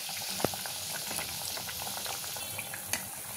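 Chole tikki shallow-fry in oil over a low flame, giving a soft, even, continuous sizzle with a couple of small pops.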